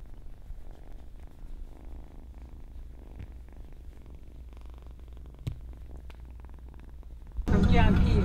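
A small cat purrs in a low, steady, rhythmic rumble close by for several seconds, before a sudden loud rustling noise takes over at the end.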